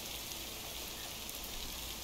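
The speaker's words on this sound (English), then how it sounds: "Can't harvest taters with all this rain." Steady rain in the video game Lake, a dense, even hiss that stays constant from start to finish with no voices over it.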